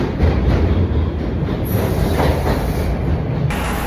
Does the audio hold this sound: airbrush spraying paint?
no